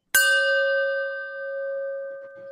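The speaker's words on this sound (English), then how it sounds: "I'm going to ring the chime." A single chime is struck once at the start of a live-streamed church service and rings out clearly, its bright tone sustaining and slowly fading over the next two seconds.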